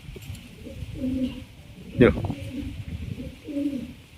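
Pigeons coo in soft, low, repeated bursts close by, a mother bird perched beside her young, while a person talks and a sharp knock sounds in between.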